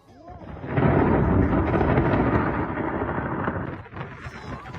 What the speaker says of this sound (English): a lightning storm, a lightning strike hitting a volcano eruption at the same time